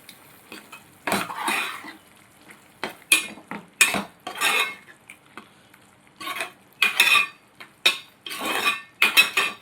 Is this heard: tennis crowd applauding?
no